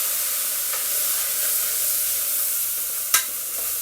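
Meat frying in a pan with garlic as spices are added, a steady sizzling hiss with a few soft stirring scrapes and one sharp clink near the end, no talking.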